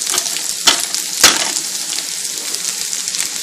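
Potatoes sizzle in olive oil in a pan with a steady, dense crackle, broken by two sharper bursts, close and fairly loud with no talking.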